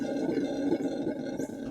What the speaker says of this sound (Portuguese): É o rugido do bugio vermelho